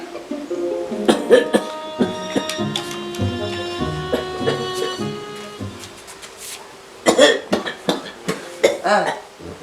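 Harsh coughing bursts break out near the start and again toward the end, loud and close, over a background of sustained tonal music-like sounds.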